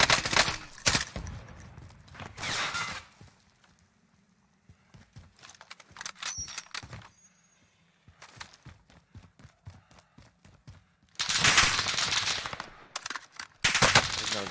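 Automatic gunfire in Call of Duty Warzone, with bursts of rapid machine-gun fire at the start, near 7 seconds and again at the end, plus sparser single shots and footsteps between them. There is no talk.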